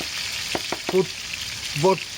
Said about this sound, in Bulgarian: Това е начин за приготвяне на домати пържени